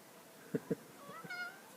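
A cat gives two short meows close by, then a softer, drawn-out mewing call, with no talking over it.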